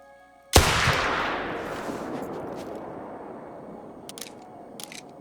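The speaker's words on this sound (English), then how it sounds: "I guess I'm gonna shoot the Dilute with the right caliber. It's a single shot pistol" A single loud shot from a single-shot pistol while hunting in the video game Call of the Wild, a sharp crack followed by a long fading outdoor echo, with faint clicks afterward and no talk.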